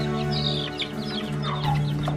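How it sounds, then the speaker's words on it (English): Hens, roosters and baby chicks clucking together during an animal rescue, a steady jumble of close, overlapping bird calls with no speech. "Hens, roosters, and baby chicks, 23."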